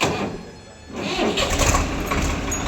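A Swaraj 855 tractor engine runs close by, its idle rising to a steady, louder mechanical rumble after about a second, with no talking.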